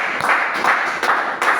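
Audience applause at a seminar presentation: a steady wash of many hands clapping in a room, moderately loud, with a few surges in intensity and no voices on top.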